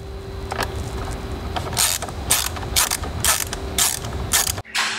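Ratchet clicking as it backs out 10 mm screws beside a Jeep steering wheel, heard as several short bursts of close, dry ratcheting with brief pauses between strokes and no talking.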